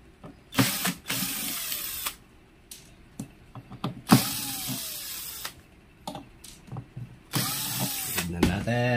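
Screws are backed out of a BTS-1740 speaker with a hand tool, heard as short bursts of ratcheting clicks and scraping, with several separate turning spells between pauses and small handling knocks, all up close.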